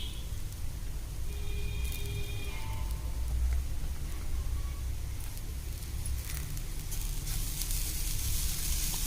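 Fresh coconut curry with moong dal sizzles steadily in a pan as it is stirred, a continuous hissing crackle with occasional scrapes and clinks, close and even throughout.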